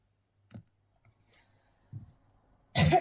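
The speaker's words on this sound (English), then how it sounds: "Excuse me for coughing" A single harsh cough bursts out near the mic after a couple of soft throat clicks and a quiet breath, with no talking.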